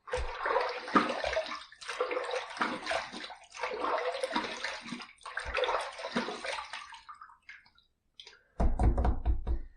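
Water runs from a tap in bursts while rinsing during a slant razor shave, a close splashing rush that stops and starts with brief gaps, then cuts off before a final loud gush, with no talk.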